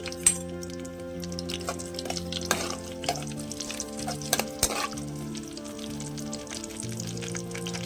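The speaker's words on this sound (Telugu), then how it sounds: "కొంచెం బ్రౌన్ కలర్ వచ్చేలాగా వేగనిద్దామండి." Tempering seeds and cumin with chillies fry in hot oil, giving a steady close sizzle with scattered crackles and faint clinks. A soft tonal hum carries underneath.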